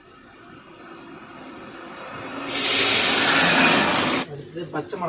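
A mixer grinder whirs loudly as it purees tomatoes and chilies for a truck drivers' chicken curry, rising from a low hum into a harsh, steady roar for about two seconds before cutting off.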